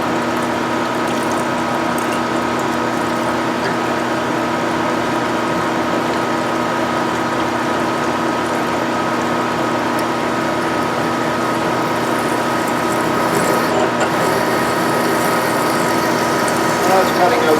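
A lathe bores a deep hole, about 2.5 inches, into a workpiece to make a Land Rover main shaft nut tool, giving a steady close grinding whir with a continuous mechanical hum that rises slightly near the end.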